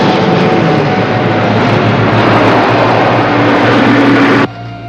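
A helicopter flying overhead makes a loud, steady engine roar that fills the whole stretch, constant and close, before cutting to a quieter rumble at the very end.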